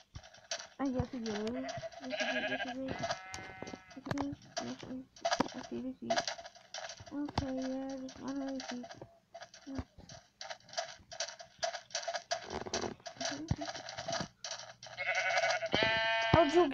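Sheep bleating in Minecraft on a mesa plateau, several short bleats repeating among clicking game sounds, with a person talking over them.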